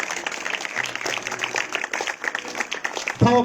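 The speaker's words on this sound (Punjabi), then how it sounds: "ਜ਼ੋਰਦਾਰ ਤਾੜੀਆਂ ਮਾਰਦੇ ਹੋਏ ਥੈਂਕਸ ਕਰੋ।" A congregation at a Christian prayer meeting claps loudly and steadily in thanks, a dense, continuous wash of hand claps that swells near the end.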